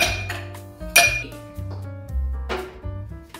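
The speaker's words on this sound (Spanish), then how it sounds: "Entonces vamos a empezar en agregar hielo" Ice cubes are dropped into a cocktail glass, making several sharp clinks and rattles in an irregular sequence, close and clear with no talk.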